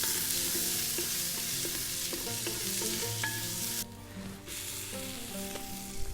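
Garlic, onion and vegetables frying in olive oil for garden-style vegan cooking, a steady close sizzle with stirring clatter throughout, briefly quieter near the end.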